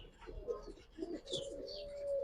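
A young silver Giribaz pigeon in a cage coos softly, a faint, close, rising and falling call with no voices.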